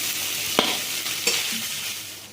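Soybean chunks fry in hot oil in a pan with a steady, bright sizzle, broken by two sharp scraping stirs early on and fading slightly toward the end.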